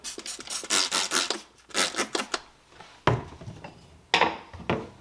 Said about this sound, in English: So once again, we're just honing.